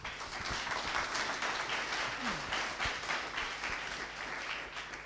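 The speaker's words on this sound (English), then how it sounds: "Give him a round of applause," An audience at a Nix conference talk applauds in a steady, dense wash of clapping that holds at an even level throughout, heard from within the room.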